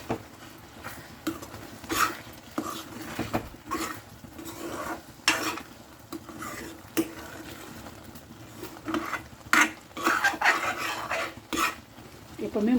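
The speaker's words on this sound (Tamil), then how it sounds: "இங்கே பாருங்கள், நல்லா நம்ம கிளறி விட்டுக்கலாம்" Spicy egg thokku is stirred in a pan, with scattered scraping and clinking strokes of a spoon against metal over a soft sizzle, close up and irregular.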